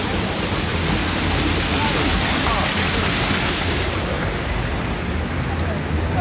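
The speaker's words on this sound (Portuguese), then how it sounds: "Aqui a água que eles estão esvaziando o piscinão." Flood water from a storm reservoir (piscinão) being pumped out, with only some of the pumps working, makes a steady, loud broadband rush like a waterfall, continuous and unchanging throughout.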